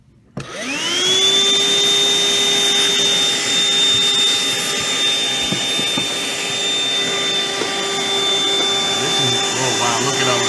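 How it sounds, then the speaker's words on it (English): A loud, whining motor spins up sharply and then runs at an even, continuous pitch while dust is cleared from the heat sinks on a desktop computer's main card. A few faint knocks sit beneath it. "we want to dust off the main card a little bit, especially"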